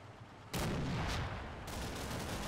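A loud gun blast in the WWII tactics game Combat Mission: Battle for Normandy cuts in suddenly, followed by a long rumbling echo and a second burst of fire, with no speech.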